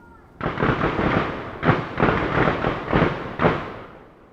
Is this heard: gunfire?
yes